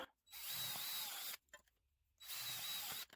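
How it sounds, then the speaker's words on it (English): A power drill whirs in two steady bursts of about a second each, separated by a short pause with faint handling clicks. "Now I gotta drill some holes."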